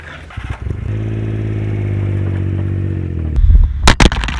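A turbocharged Daihatsu Mira with a rising-rate fuel pressure regulator drives off, its small engine droning steadily and loudly, then revving harder with clattering, crackling bursts toward the end.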